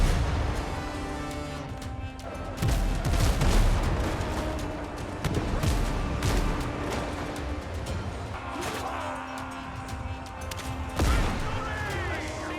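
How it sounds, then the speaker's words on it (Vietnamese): Ship cannons fire at enemy vessels' masts in the pirate game Windrose, heavy booms and volleys rolling over several seconds with crashes and sea ambience, a voice narrating over them. "Cứ dùng cái đạn đó để bắn gãy cái cột buồm của bọn nó trước"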